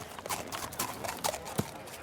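Hooves clip-clop in a steady, fairly close rhythm, about half a dozen sharp knocks, with a faint horse snort or whinny near the end.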